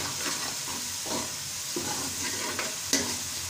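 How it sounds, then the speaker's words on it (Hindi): Onions frying in a pan while being stirred until lightly browned, a steady close sizzle with scraping stir strokes and a brief clink near the end, no voices. "ये देख लें आप, हमारे प्याज जो है वो ब्राउन हो रहे हैं"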